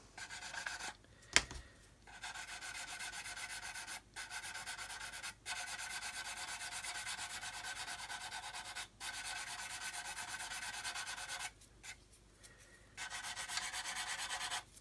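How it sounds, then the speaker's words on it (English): Steady close rubbing of sandpaper across the plastic surface of a Buff model aircraft kit, continuing in long strokes with a few brief breaks and one sharp knock early on. "Don't just keep sanding, you'll end up with a flat bottom"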